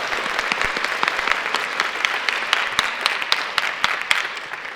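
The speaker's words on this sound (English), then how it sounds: "round of applause for this" A conference keynote panel audience claps steadily for nearly five seconds, a dense crowd of hands with no voices over it.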